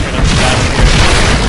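Loud, dense rumbling blast of a siege tank being destroyed in a StarCraft-style strategy game, a continuous roar filling the whole moment with no clear break, likely layered with other battle noise.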